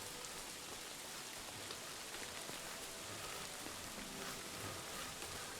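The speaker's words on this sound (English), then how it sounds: "the rain will help mask my sounds even more" Steady rain pours down in the woods in Kingdom Come Deliverance 2, a soft, even hiss of drops on leaves and ground that holds unbroken throughout with no voices.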